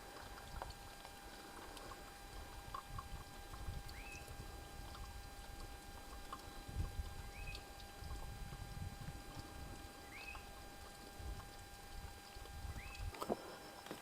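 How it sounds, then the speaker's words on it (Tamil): Spring water flows steadily at a remote, untouched forest waterfall along a rocky river bed, a continuous close rushing and splashing with a few faint high chirps over it. "மழையே இல்லாமல் தண்ணி வந்துகிட்டே இருக்கு பாருங்கள்."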